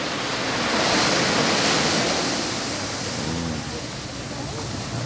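Waves wash steadily onto a beach, a continuous roaring surf with some wind buffeting the microphone.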